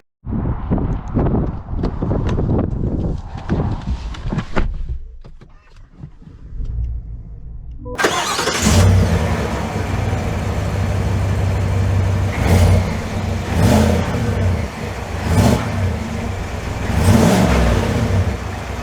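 A 2022 GMC Sierra AT4X truck engine starting, a few thumps and shuffling first, then a loud close-up engine catch that settles into a steady rumble with repeated revving surges.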